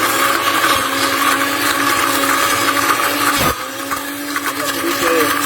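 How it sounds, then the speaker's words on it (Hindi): A wooden stick scrapes around the sides of a container while preparing a tandoor-style chutney recipe, a steady grinding rasp with a brief catch midway, close and continuous. "लकड़ी से कभी कभी ब्रेक लग जाता है तो आवाज आ रही है"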